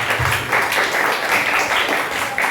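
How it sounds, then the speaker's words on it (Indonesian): Audience clapping at an elementary school arts practical exam event in Lamongan, Indonesia, a loud sustained round of applause with uneven pulses of claps throughout. "Tepuk tangan untuk kita semuanya."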